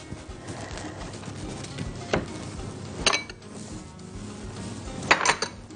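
Serving dishes and glasses set down for cantaloupe and avocado smoothie: a few sharp clinks and clatters of tableware spaced a second or two apart, close and fairly loud over a soft hum, with no talking.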